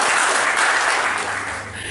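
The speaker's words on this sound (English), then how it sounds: "round of applause for you guys" Sustained audience applause from a crowd at a fan event, dense steady clapping filling the room, slightly tapering toward the end with no voices over it.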